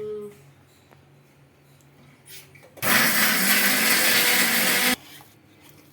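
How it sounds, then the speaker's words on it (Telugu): A kitchen mixer grinder blends green chillies into paste, a loud roaring whir lasting about two seconds between quieter moments, close to the listener. "వేసి మిక్సీలో గ్రైండ్ చేసుకోవాలి"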